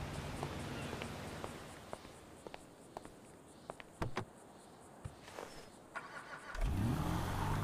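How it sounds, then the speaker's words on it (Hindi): A car's engine starts and revs up near the end as the car is about to be driven out, following a quiet stretch of night insects chirping and a few scattered clicks and thumps. "चलो मैं गाड़ी को बाहर निकाल लेता हूँ"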